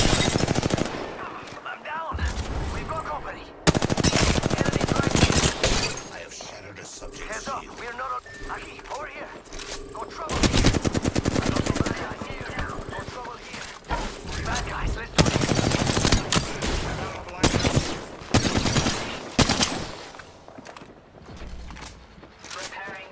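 Rapid bursts of automatic gunfire and single shots in a shooter video game, loud and near, coming in repeated volleys with short gaps and mechanical clicks, while voice callouts speak between the shots.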